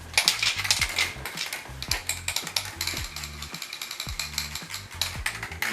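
Rapid rattling of a mixing ball inside a spray can of primer, shaken for automotive fender painting, a fast, loud, steady clatter of metallic clicks going on without a break from start to finish.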